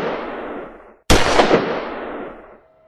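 A single sharp, loud revolver gunshot bursts out after a fading rumble, followed by a long decaying echo.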